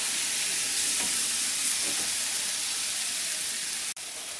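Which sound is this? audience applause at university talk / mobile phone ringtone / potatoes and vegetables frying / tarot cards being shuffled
potatoes and vegetables frying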